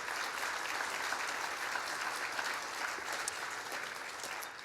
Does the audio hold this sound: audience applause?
yes